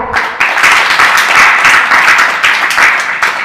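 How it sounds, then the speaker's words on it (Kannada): Audience applause at a spiritual discourse gathering, a dense sustained crowd clapping that swells and rolls on steadily throughout, loud and close with no talk over it. "ಜೋರಾಗಿ ಒಂದ್ಸಲ ಚಪ್ಪಾಳೆ ಹಾಕ್ಕೊಳ್ಳಿ ನಿಮಗೆ ನೀವು."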